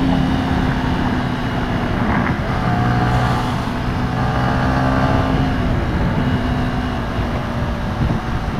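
A Yamaha M-Slaz motorcycle engine drones steadily while riding, a loud continuous hum with slight shifts in pitch, close to the microphone and with no voices.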